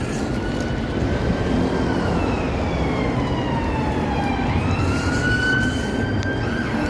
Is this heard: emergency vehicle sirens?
yes